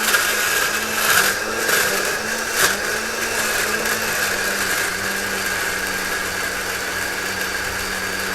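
A blender finely grinds ingredients for ayam pesamah, a steady loud whirring drone that runs unbroken close by, with no voices over it.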